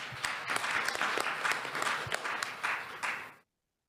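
A conference audience applauds to welcome a professor to the stage, with steady, fairly dense clapping that lasts about three seconds and then stops abruptly.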